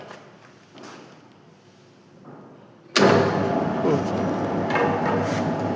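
A 20 kg rotary oil extraction machine loaded with sesame seeds kicks on abruptly after a quiet stretch, then holds a loud, steady mechanical roar and rumble close by.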